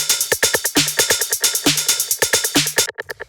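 A breakbeat techno percussion group plays busy, syncopated drum hits with crisp transients and tonal pings, driving in a tight loop for about three seconds before thinning out at the end.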